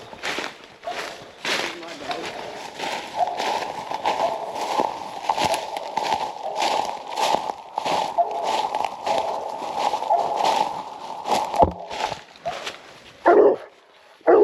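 Coon hunting dogs barking repeatedly at a den tree in the woods at night, rapid rhythmic bawls close by, with a voice breaking in near the end.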